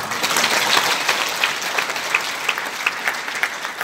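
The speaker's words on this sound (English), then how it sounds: "Then give a big applause then." An audience bursts into applause, a steady, fairly close clatter of many hands clapping that keeps a loose rhythm and continues unbroken throughout, without any talking over it.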